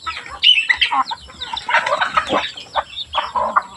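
Several chickens cluck and squawk nearby in uneven, overlapping bursts, with a steady faint hum in the background.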